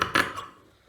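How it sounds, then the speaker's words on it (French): Large scissors cut fabric for a hand towel, with two or three quick close snips in the first half second, then fading quiet. "je vais couper avec les grands ciseaux"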